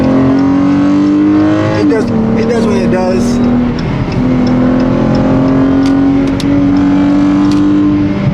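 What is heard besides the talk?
2019 Dodge Challenger SXT engine accelerating while driving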